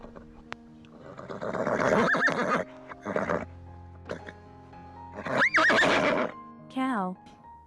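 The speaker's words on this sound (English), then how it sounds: "Horse." A horse gives a loud, close whinny with rising and falling neighs and several shorter snorting calls spread across a few seconds, separated by quiet gaps.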